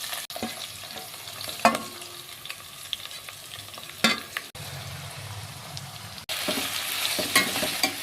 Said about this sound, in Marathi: तेल गरम झाल्यावर थोडंसं जिरे, थोडीशी कोथिंबीर, त्यानंतर कांदे आणि टमाटे